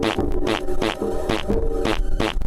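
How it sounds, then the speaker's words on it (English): A Mars rover driving, its metal wheels rolling over rocks and sand, gives a rhythmic, repeating grinding clank with a steady hum beneath, each burst arriving about every two-thirds of a second. "This is the sound of the rover driving on Mars."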